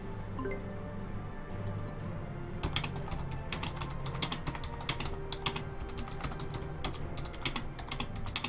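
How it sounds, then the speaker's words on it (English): Fingers type on a computer keyboard nearby, a quiet lead-in giving way to quick, irregular key clicks in short bursts, with no voices. "Typing."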